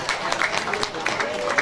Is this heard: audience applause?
yes